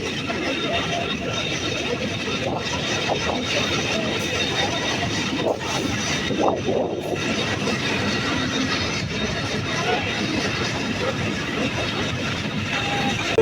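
A local train rumbles and clatters steadily as it rolls into Kashiani Junction railway station in Gopalganj, Bangladesh, heavy and close, with faint voices in the background.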